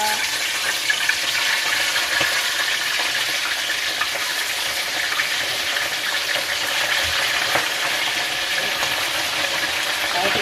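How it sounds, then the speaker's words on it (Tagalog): Galunggong fish frying in a pan, giving a steady broadband sizzle that runs unbroken and fairly loud at close range, with faint background noise that may include heavy rain outside. "Iprito natin ang isda."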